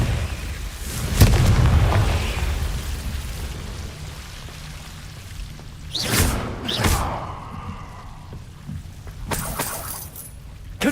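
Confringo fire spell blasts in Hogwarts Legacy, several sharp booming impacts spaced a few seconds apart over a rumbling, rain-like background, with little talk.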